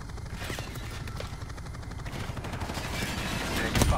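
Gunfire rattles in Call of Duty 4: Modern Warfare Remastered, repeated automatic bursts over a steady rumbling mechanical drone like a helicopter, with a heavier boom near the end.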